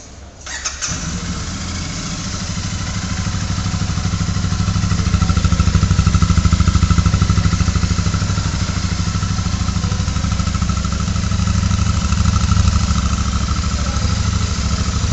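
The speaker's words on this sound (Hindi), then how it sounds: "अब इसकी एक बार मैं आपको एग्जॉस्ट ऑन करके सुना देता हूँ।" A Royal Enfield Super Meteor 650 cruiser motorcycle starts with a quick crank and catches, then settles into a loud, steady, throbbing exhaust idle that holds close and unbroken until the end.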